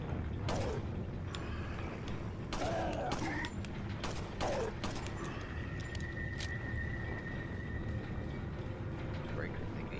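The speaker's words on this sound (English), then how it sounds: "Now I need to go back to that lever up there, and I gotta flip the breaker thingy." A breaker lever is flipped in Resident Evil 4, giving several sharp mechanical clunks and creaks spaced over a few seconds against game ambience, with a voice talking.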